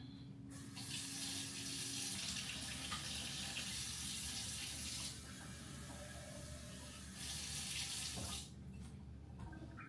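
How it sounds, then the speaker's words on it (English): Hot water runs from a kitchen tap in a steady, close hiss, its pitch shifting as the flow and the filling vessel change, with a short pause before the stream resumes. "Get some hot water."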